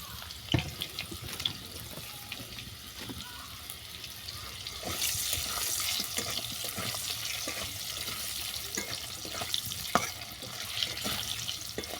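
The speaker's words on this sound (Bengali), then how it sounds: "সেমভাবে আলুটাকে ভেজে নিচ্ছি" Potato pieces shallow-frying in oil for an egg curry, a broad steady hiss that swells midway, dotted with scattered pops and utensil taps, close and moderately loud, no talking.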